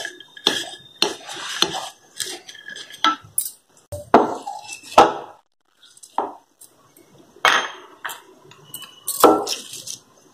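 Dry fruits being chopped into pieces on a board for sugar-free, jaggery-free modak: irregular sharp knife chops and clacks, close and loud, in short bursts with pauses between.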